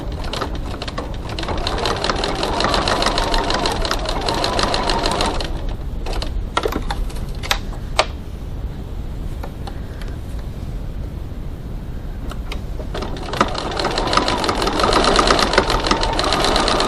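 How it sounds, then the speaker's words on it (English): A sewing machine stitches across the ends of a bag strap in two loud, continuous whirring bursts, with a short pause of clicks and handling in between, close up and with no talk. "now we're just stitching across the ends of our strap"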